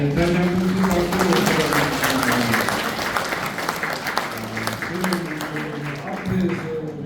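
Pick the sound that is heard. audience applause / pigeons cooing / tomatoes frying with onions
audience applause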